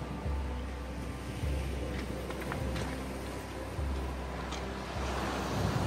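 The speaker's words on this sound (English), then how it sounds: "Good view of the historic Cob down there in the distance at Lyme Regis, with the waves crashing over it there, you can see." Sea waves break on the coast at Lyme Regis near the historic Cob, a steady roar of surf swelling in repeated surges, blended with gusty wind buffeting the microphone.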